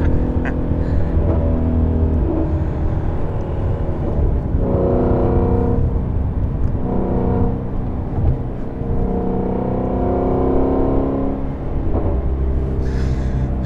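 Inside a Ford Shelby GT350 taking a turn, the engine drones loudly and steadily with rising and falling revs and a deep rumble throughout, close and continuous for about fourteen seconds.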